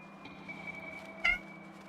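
A house cat gives a short, fairly close meow over a quiet background with a steady faint tone and low hum.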